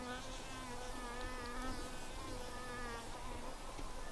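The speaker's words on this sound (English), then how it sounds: "I hope you can hear that every time a bee flies out." Honeybees leaving a hive in late winter on their cleansing flights, making a steady, close insect buzz with overlapping wingbeat drones that rise and fall as individual bees fly out.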